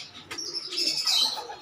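Pigeons of a good breed, such as Huma, Giribaz or racing pigeons, giving a short, faint coo with a thin chirp in a brief burst.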